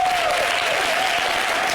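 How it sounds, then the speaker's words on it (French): Audience applause after a discussion of wedding dresses: a steady wash of clapping, fairly loud and continuous, with a faint tonal hum running underneath. "on va applaudir"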